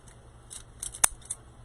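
Scissors snipping deco mesh for a sunflower wreath, a few quick close cuts with one sharp clear snip in the middle, otherwise quiet.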